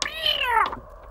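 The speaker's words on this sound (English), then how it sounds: "Have you fed that cat?" A cat gives one clear, close meow, a drawn-out falling cry lasting under a second before fading to quiet room tone.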